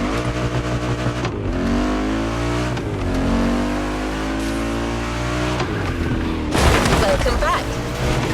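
An Audi R8 LMS GT2 race car in a racing video game revs hard and loud, its engine pitch sweeping up and down through gear changes, with a narrator talking over the engine.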